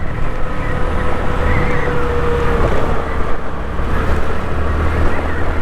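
A 2010 Honda Activa 110cc scooter riding along a road, with a steady engine drone buried under heavy, constant wind rush at the microphone, loud and continuous throughout.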